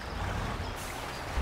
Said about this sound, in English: And going through this water, it doesn't seem to look to have too much problems without using all-wheel drive.